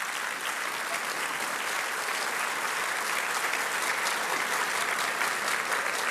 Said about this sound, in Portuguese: o senhor merece o aplauso do Brasil inteiro